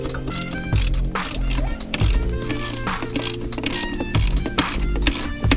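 A ratchet wrench clicks rapidly in repeated bursts while loosening center console bolts inside an Acura RSX Type S, close and clear with a few louder knocks between the runs of clicks.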